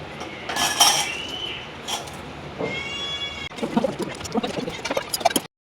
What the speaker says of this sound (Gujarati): મરચાં આપણે આવી રીતના કટિંગ કરી નાખીએ.